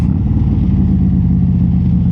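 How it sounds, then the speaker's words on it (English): A 2025 Harley-Davidson Road Glide, cammed and tuned, revs steadily while accelerating, with a loud, throaty exhaust rumble, close and continuous throughout. "But listen to that exhaust, man. This thing just chirps"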